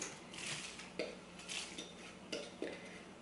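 Cracker crumbs being mixed in a bowl for a Valentine sweet, a quiet close rhythm of scraping and light clinks from the utensil against the bowl, repeating every second or so.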